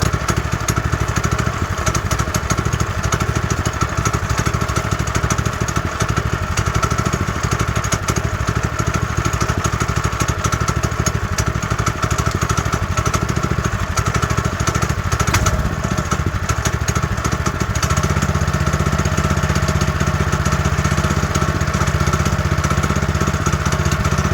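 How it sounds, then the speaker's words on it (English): A stock mini bike engine idles after its throttle cable is adjusted, a steady, even mechanical drone with a light rattling texture that holds a constant level throughout, with no voices. "That's the perfect idle right there, in my opinion."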